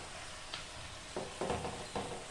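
Chicken broth poured into a hot pan of cooking chicken, the sizzle flaring in a few short splashy bursts over a steady frying hiss, close and without talk.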